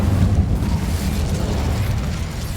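An Incendio fire spell cast in Hogwarts Legacy gives a loud, continuous whooshing roar of flame with a heavy low rumble and an even, dense texture throughout.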